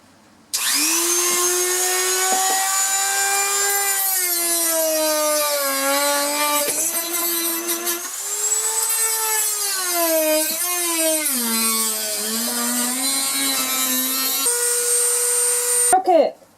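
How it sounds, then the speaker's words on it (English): A variable speed Dremel rotary tool cuts at close range in a cramped 1974 Silver Streak camper bathroom while the old toilet is removed, its whine steady then sliding up and down in pitch as the speed and load change for about fifteen seconds. "It's a variable speed Dremel."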